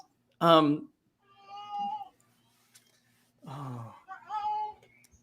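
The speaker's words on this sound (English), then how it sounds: "I hear your cat in the background." A cat meows twice, each a short rising cry, while people talk quietly in between.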